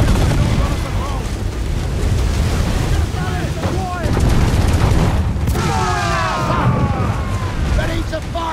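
Ship cannon fire aboard a sailing vessel in Assassin's Creed IV: Black Flag, booming blasts over wind, waves and water noise, with shouted voices and crew chatter throughout.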